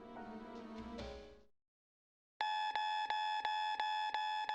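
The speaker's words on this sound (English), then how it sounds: "Got different beeps going on and everything." A video game security system sounds off, first with a burst of bright synthetic tones, then after a short silence a loud, steady run of rhythmic electronic alarm beeps pulsing at an even pace.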